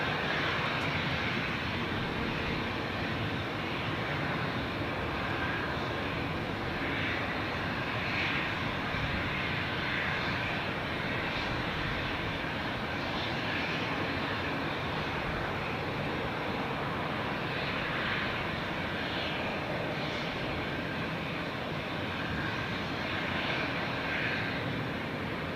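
A business jet at Zurich airport gives a steady, continuous engine roar that holds at an even loudness throughout, heard from a moderate distance with no voices.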